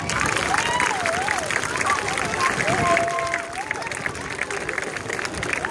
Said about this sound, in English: This is our award-winning Inglewood High School Sentinel Marching Band. Round of applause, y'all.